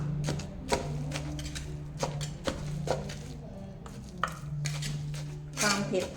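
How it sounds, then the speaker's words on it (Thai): Repeated hard thuds of a pestle pounding herbs with fermented fish in a mortar for Isan chili dip, irregular but steady, with a faint hum underneath and occasional quiet talk. "โขกเลยค่ะบัดนนี้โขกสมุนไพรมันเข้ากัน"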